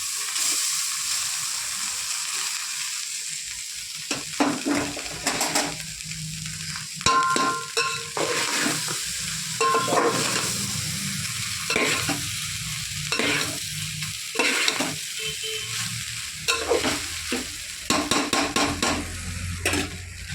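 Rice with spices, carrot and drumstick leaves stirred and fried in a pan: a constant sizzle broken by repeated clattering spatula scrapes and knocks against the metal, close up and without talk.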